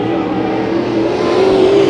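A pro stock race car spins a full 360 on the track at Santa Maria Raceway during the Nationals heat races, heard as a loud, steady engine roar with a rising tonal whine near the end.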